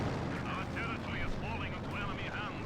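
Battle din from the Company of Heroes 2 strategy game, a continuous rumble of distant gunfire and artillery with whistling, chirping unit sounds over it, fairly faint and steady throughout.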